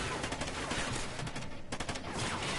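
Rapid bursts of gunfire from the video game Call of Duty: Ghosts, dense and continuous at moderate level across a short stretch with no talk over it.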